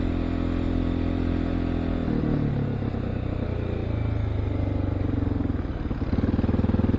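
Steady, close engine drone of a Honda XR650L dual-sport motorcycle riding a wooded trail, a continuous rumble that shifts gears midway and rises into revving near the end.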